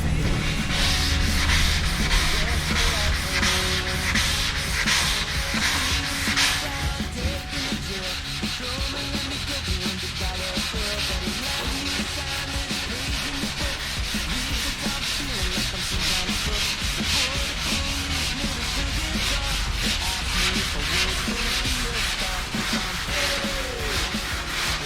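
Steady, continuous rasping of a sanding block worked by hand over the body of a Z28 car, close and fairly loud, with a brief heavier stretch at the start and no talking throughout.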